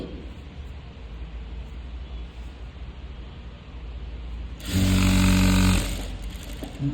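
A sewing machine stitching the neck of a chudidar runs in one loud steady burst of about a second, set against quiet room noise.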